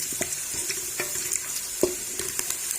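Whole white cumin seeds sizzle with light-browned onions in butter, a steady frying hiss broken by a spoon scraping and stirring the pan at irregular intervals, close and alone.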